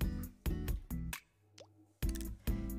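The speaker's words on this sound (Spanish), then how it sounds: "Y vamos a introducir en el agua todas las berenjenas" Eggplant pieces splash one by one into a large bowl of salted water, giving several sharp, close plops in an irregular rhythm, with a short gap in the middle before more drop in.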